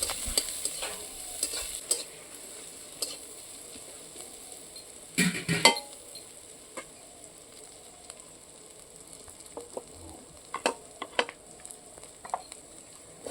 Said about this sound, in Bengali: তো এখন পেঁয়াজটা দিয়ে পেঁয়াজটা একটু লাল লাল করে ভেজে নেব।